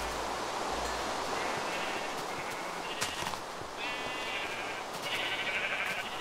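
Sheep in the video game Minecraft bleat several times at moderate distance over a constant hiss of game ambience, with a few short calls spaced through the scene.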